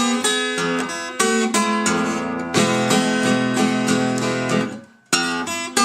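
Acoustic guitar plays a Delta blues transitional figure, bright plucked notes over a droning bass, ringing steadily with a brief pause near the end before the phrase resumes.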